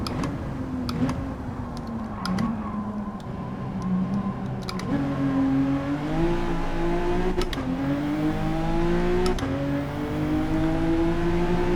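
A Honda NSX-R engine in Gran Turismo 7 rises and falls in pitch through repeated revs and gear changes, a steady, moderately loud drone punctuated by brief clicking shift sounds.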